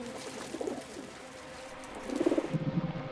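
Pigeons coo softly beside a European river, a few low, rounded calls late in the moment over faint ambient outdoor noise, with no voices present.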